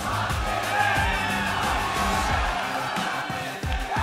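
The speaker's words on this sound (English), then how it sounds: "Crowd in a very jovial mood here for this year." Boisterous esports arena crowd at a 2014 League of Legends NA LCS summer match, cheering and whooping in a dense, steady roar with scattered yells, loud and continuous throughout.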